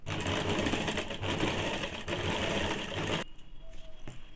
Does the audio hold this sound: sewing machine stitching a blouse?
yes